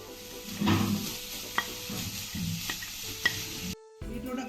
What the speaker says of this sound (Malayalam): നമ്മളിനി ഇതിലേക്ക് ചേർക്കുന്നത് ഒരു ബീറ്റ്റൂട്ട് ഗ്രേറ്റ് ചെയ്തതാണേ